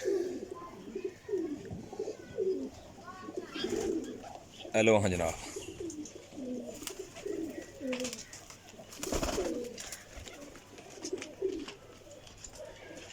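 Pigeons coo in soft, repeated throaty calls close by, with someone speaking briefly over them.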